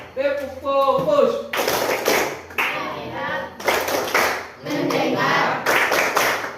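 A classroom group chants and claps through a focus clapping game, with several sharp bursts of rhythmic hand claps between voiced phrases, close and loud.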